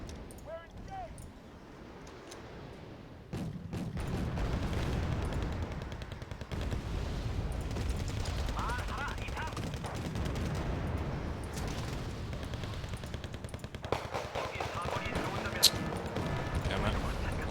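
Sustained gunfire and bursts of shooting in the Wargame Red Dragon video game, a Second Korean War battle, running dense and continuous under intermittent voices with a few sharper reports.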